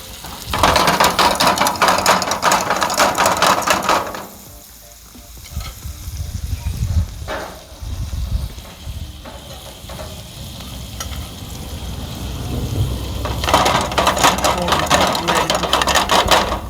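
Raw frozen king prawns hiss and sizzle loudly on a hot barbecue grill. A dense, steady frying crackle surges, dips briefly with scattered clicks and scraping, then swells again.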